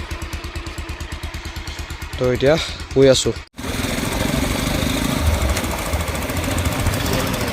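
Motorcycle engine running after a cold start, a rapid, loud, close thumping idle, then a steadier rumble once riding gets under way, with someone talking over it.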